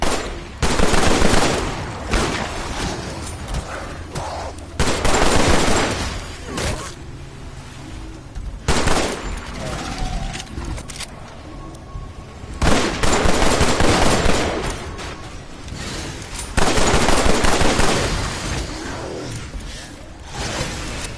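Gunfire in the VR shooter Killing Floor, set in catacombs during a boss wave: repeated loud bursts of automatic fire separated by quieter stretches of game noise, with a voice talking over parts of it.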